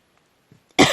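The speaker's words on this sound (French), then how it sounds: "Ah non, je tousse un peu." One woman gives a single sharp, close cough at the very end, after near silence broken by faint small sounds.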